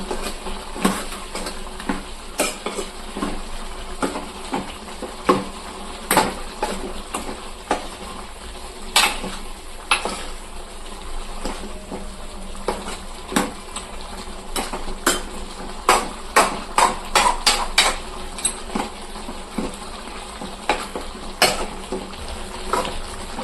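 A utensil stirs chicken curry in a pan, with scattered sharp clinks and scrapes against the metal, some in quick clusters, over a steady low sizzle of cooking.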